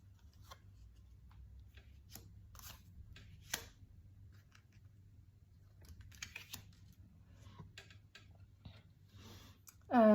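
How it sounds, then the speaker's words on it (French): Oracle cards are laid out one by one on a table, making light, sporadic taps, clicks and soft slides of card stock, close and quiet with no talking. "Je vais mettre toutes les cartes, je vais essayer de voir si j'arrive à toutes les placer."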